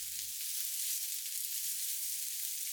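Potatoes and onions with salt and chili flakes fry gently in a pan, a soft, even hiss of sizzling that carries on quietly and unbroken, with no one speaking.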